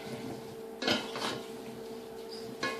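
A spoon clinks against a pot while stirring cinnamon and nutmeg into apples for applesauce, giving a couple of soft metallic knocks and scrapes over a quiet kitchen background.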